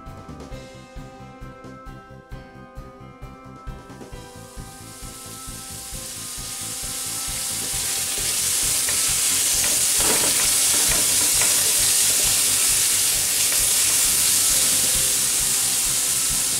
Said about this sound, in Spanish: Le prendemos al traste donde lo vayamos a hacer y agregamos aceite. Enseguida agregamos la cebolla.